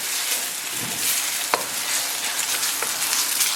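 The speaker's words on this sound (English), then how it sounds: "And in goes 4 eggs. Just add them in, stir them in" Eggs are stirred into sizzling Ethiopian firfir in a pan, giving a steady close frying hiss broken by a few sharp utensil scrapes and clicks against the pan, with no talking.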